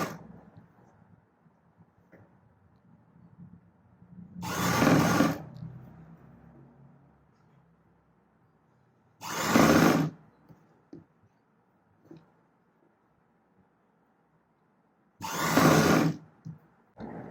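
A sewing machine stitches a blouse strip in three short, loud bursts of about a second each, with quiet pauses between runs and no talking.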